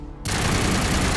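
Assault rifle from the Mass Effect video game firing a sustained automatic burst, loud dense rapid crackle beginning abruptly after a short quiet moment.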